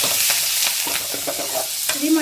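Onion, green chillies and curry leaves sizzle loudly in a pan, with a close, continuous frying hiss and light stirring taps throughout.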